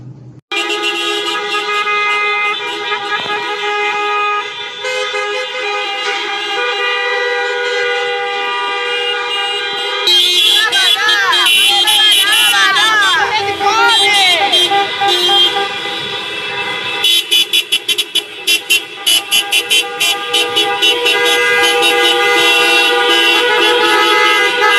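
Car horns honk over and over and overlap in a long convoy of more than a thousand vehicles in Espírito Santo, Brazil. The blaring is loud and steady, with changing tones and no speech.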